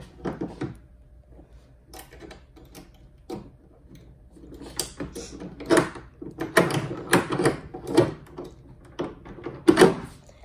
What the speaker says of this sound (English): So you open the lock, open the door